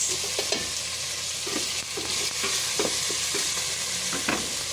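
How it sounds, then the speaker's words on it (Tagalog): Chicken feet and chicken wings frying in a pan: a steady, close sizzle with scattered stirring scrapes and clinks, and no talk. "maglalagay tayo ngayon ng chicken feet and chicken wings"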